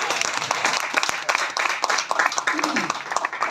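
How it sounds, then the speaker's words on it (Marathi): An audience at a poetry festival claps in a quick, scattered burst of applause throughout, with voices mixed into the crowd noise. "जोरात टाळ्या वाजल्या पाहिजे."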